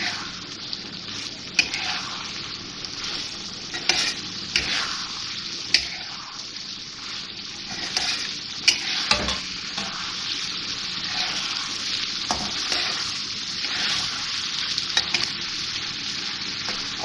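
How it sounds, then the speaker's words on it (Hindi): Beef karahi with salt and black pepper sizzles and fries in a pan while being stirred, a steady close hiss broken by scraping and clinking of the spoon, with no talking. "थोड़ा सा और भूनूंगी इसको मैं, अच्छी तरह मिक्स हो जाए नमक और काली मिर्च।"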